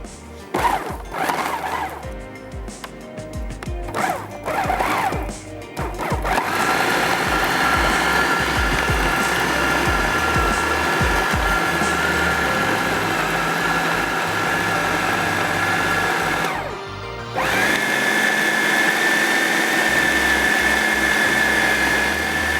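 Mushroom Swiss burger patty mixture with ground garam masala being mixed by machine: a few short start-stop pulses, then a loud, steady whirring grind with a brief pause near the end before it resumes.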